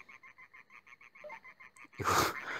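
Frog croaking in the Troll Quest Classic video game, a regular series of short, evenly spaced croaks repeating for about two seconds, followed by a louder burst of game noise.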